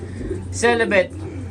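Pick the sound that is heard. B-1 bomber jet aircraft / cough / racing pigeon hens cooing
racing pigeon hens cooing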